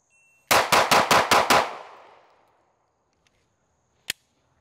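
Six rapid, evenly spaced pistol shots from a Smith & Wesson Compact, loud and sharp with a decaying ring, followed by a faint click and one later single crack.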